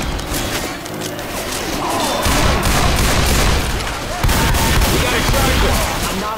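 Gunfire in the zombie shooter Left 4 Dead 2 during the Hard Rain campaign: dense, continuous bursts of shots and booms fill the whole stretch, loud and close, with no voices over them.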